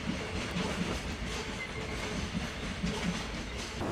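A GOT container freight train with 12-foot containers departs for Kumamoto in darkness, a steady rumbling roll with faint rhythmic wheel clacks over the rails, heard from trackside at moderate distance.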